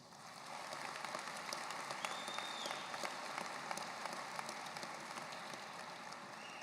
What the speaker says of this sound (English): Graduates, please take a moment to show your appreciation for all of their support by giving them a round of applause.